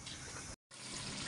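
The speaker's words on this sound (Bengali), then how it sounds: "গরম পানি দিয়ে দেব।" Hot water pours in a steady gush into a pot of beef nihari, with a brief break in the flow before it resumes, faint and close.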